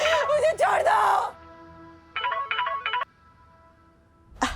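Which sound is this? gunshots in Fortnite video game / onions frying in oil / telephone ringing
telephone ringing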